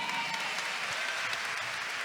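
A church congregation applauds during a homily at a Siege of Jericho prayer night, with steady, dense clapping filling the space for the whole short stretch.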